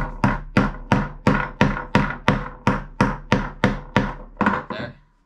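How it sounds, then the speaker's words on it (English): Steel hammer taps bearings into a homemade wooden scooter wheel: about eleven sharp, evenly spaced knocks on wood, close and loud, slowing slightly toward the end with no speech. "I need a bit of a hammer."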